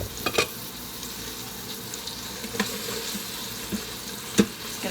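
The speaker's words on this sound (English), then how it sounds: "So this is just on regular saute, and we'll start adding our stuff right to this meat." Ground meat browning on the saute setting of an Instant Pot, a soft steady sizzle broken by a few sharp scraping clicks of a utensil breaking it up.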